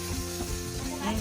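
Food sizzling in a pan on a campsite stove while being stirred, a steady close frying hiss with faint scraping, low chatter in the background.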